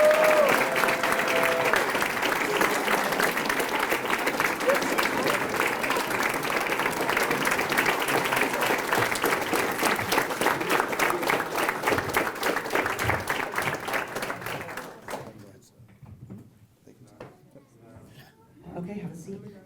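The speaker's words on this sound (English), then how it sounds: "let's do one last round of applause for the top 10 and the top 50" A large audience applauds at an awards banquet, a long, loud, dense round of clapping that cuts off sharply near the end, followed by quiet room sounds and a brief voice.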